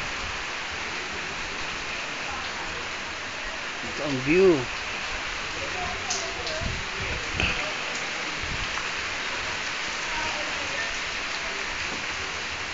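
Heavy rain falls at Lian, Batangas as a steady, dense hiss throughout, with a voice speaking briefly over it.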